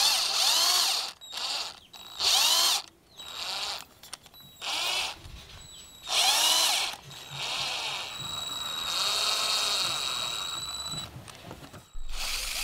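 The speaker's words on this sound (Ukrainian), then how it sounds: "Шуруповерт або в дриль зажмемо шматок шпиці від велосипеда." An electric drill spins a piece of bicycle spoke screwed into a float blank, whining close up in repeated on-off bursts of varying pitch, then running longer toward the end.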